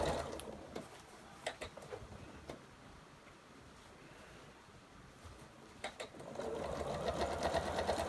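A sewing machine running a 1/4 inch seam along quilt binding, a steady mechanical whir broken by a few clicks, close but soft with no talking.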